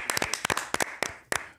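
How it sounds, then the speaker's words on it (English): Studio audience applause for a guest on a sports talk show, a short burst of scattered, fairly close handclaps with uneven rhythm, no voices over it. "could we give a round of applause to Maurice Jones-Drew?"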